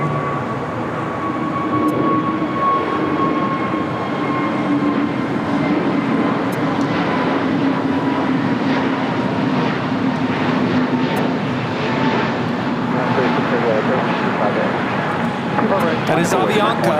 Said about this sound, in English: That is Avianca 641 taking off to Guatemala City on an A320neo.